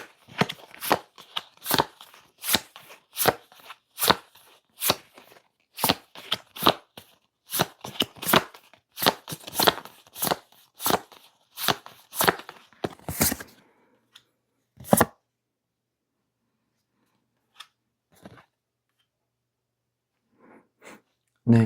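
Tarot cards being shuffled and drawn, about fifteen seconds of rapid crisp riffling bursts close to the microphone, then quiet with a few faint card flicks and taps.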